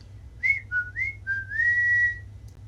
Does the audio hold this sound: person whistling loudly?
yes